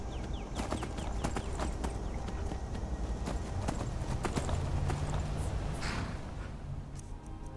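Horse hooves clip-clop steadily in Skyrim, a brisk run of near, sharp knocks across the stretch with faint background ambience and no talking.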